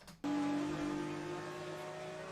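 A Nissan R32 race car is driven hard on a wet track, bursting in abruptly with a loud, sustained high-revving engine howl near the rev limiter, close and dominant, settling slightly in pitch.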